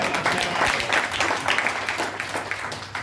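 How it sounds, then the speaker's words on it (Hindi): An audience at a product presentation breaks into hearty applause, a thick, sustained wash of many hands clapping that holds steady for around three seconds. "बजाओ ताली"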